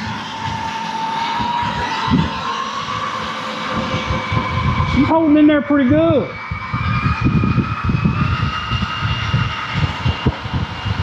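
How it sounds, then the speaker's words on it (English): Electric motor of a Vanquish H10 Optic 1/10 trail buggy RC car revving: a short, rising then falling whine midway through, set against a steady background hum, with someone talking around it. "Let's see if we can rev this thing back up."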